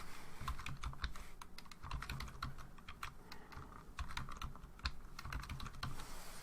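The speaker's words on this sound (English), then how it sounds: "I'm going to set up a password by hand for Jack." Someone types a password by hand on a computer keyboard, a quiet close patter of irregular key clicks with brief pauses, running for several seconds with no one talking.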